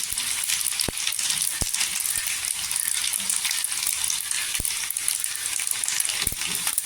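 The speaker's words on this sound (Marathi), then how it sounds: "लसूण छान गोल्डन कलर झाला पाहिजे तिथे जिरं टाकायचं जिरं पण छान असं तरतरलंय राय टाकून घ्यायची" Garlic, cumin and mustard seeds sizzle steadily in hot oil for a tempering for Maharashtrian varan dal, a continuous close crackling hiss with a few sharp pops and clicks scattered through.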